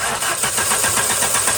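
A car engine with a bad idle air control valve turns over and catches. The pulsing cranking and running sound is close and loud, with no one talking.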